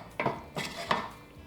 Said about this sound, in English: and then stir